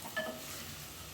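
Ginger-garlic paste and vegetables for veg biryani frying in oil, a soft continuous sizzle with a faint stirring scrape near the start.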